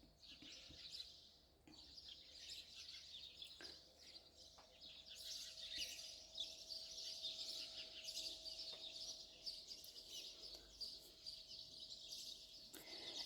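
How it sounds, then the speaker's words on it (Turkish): Birds chirp and call continuously at a distance in the morning, a steady bright chorus with an occasional clucking fowl underneath, no voices. "o sabahın harika güzel o kuş seslerini şöyle dinleye dinleye insan huzur buluyor"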